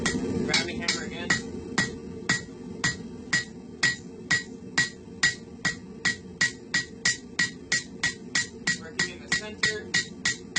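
Rounding hammer striking hot steel on an anvil while forging a leaf hook, drawing out the stem: a steady run of about thirty sharp, ringing metallic blows at an even brisk rhythm, close and clear.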